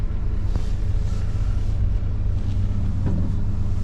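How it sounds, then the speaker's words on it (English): An old 1985 Chevrolet Suburban squarebody truck with an NV4500 gearbox driving along, with a low steady engine and road rumble and a few faint squeaks and rattles over it. "So you can probably hear there's some squeaks and rattles, and it's an old truck."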